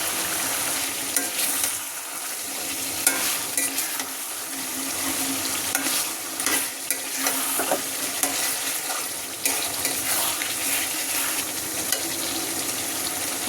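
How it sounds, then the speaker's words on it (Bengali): Chicken bhuna being stir-fried until red in a scorched wok, with a steady loud sizzle and repeated scraping stirs running throughout and no voices. "লাল লাল করে ভুনা করব, মুরগির লাল ভুনা দিয়ে আজকে ইফতার হবে"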